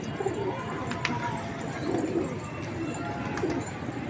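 Pigeons of various breeds kept on a rooftop coo softly in a few low, rolling bursts, fairly quiet and spread across the moment, with faint background noise around them.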